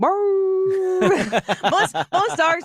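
A two-year-old toddler imitates a beagle puppy howling, one sustained rising-and-held vocal howl lasting about a second, followed immediately by chattering speech.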